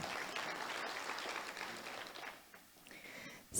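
Audience applause for a panel speaker at a technology forum, a steady wash of clapping that holds for about two and a half seconds, then thins and fades away.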